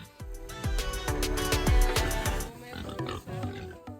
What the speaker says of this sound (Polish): Świnie puławskie.